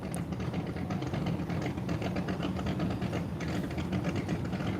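A boat engine idling on a lake at night, a steady close low rumble with fast even chugging pulses and no voices over it.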